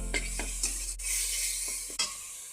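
Spices stirred and frying in hot oil: a steady close sizzle with repeated scraping strokes of a spoon against the pan.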